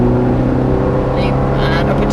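A Ferrari F430 drives on the Thruxton circuit, its engine giving a steady, loud, droning roar up close with a faint shift in tone partway through.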